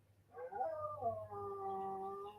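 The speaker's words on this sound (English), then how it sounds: "I hear Sammy howling back there." A dog howls in a long, wavering, rising and falling cry that carries from somewhere in the background, fairly clear and sustained over a low hum.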